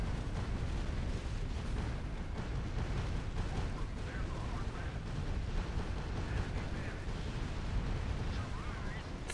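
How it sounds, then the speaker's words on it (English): Bombing run explosions in the strategy video game Art of War 3, a continuous dense rumble of blasts and bursts that stays loud and steady throughout. "Bombing run!"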